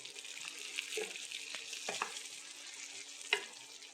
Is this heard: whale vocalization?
no